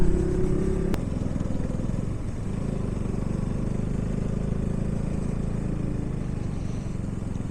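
A Royal Enfield Bullet motorcycle riding along a road, its engine thumping steadily and close throughout, with a brief tonal sound at the start and no talk.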